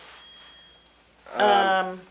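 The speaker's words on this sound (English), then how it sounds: "Some phone's ringing." Telephone ringing during a small-town selectmen's meeting, a single bright electronic ring tone starting midway and sounding clearly over quiet room background.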